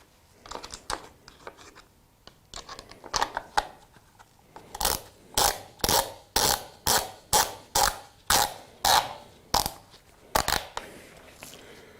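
Chain tension and cover being tightened on a Festool SSU200 sword saw, a series of close, crisp ratcheting clicks in bursts, then a steady rhythmic run of about a dozen evenly spaced clicks, with no talking.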